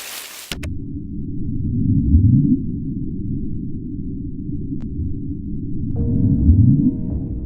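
The Bloop, an underwater ocean sound recording, plays back as a deep rumbling low-frequency roar with rising sweeps, continuous and loud, repeating twice, with a faint tonal hum entering near the end.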